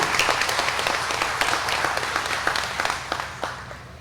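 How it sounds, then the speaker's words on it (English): An audience at a signing ceremony gives a round of applause for local contractors, a dense, continuous wash of many hands clapping, loud and sustained throughout. "A round of applause for our local contractors that have worked with us in this project."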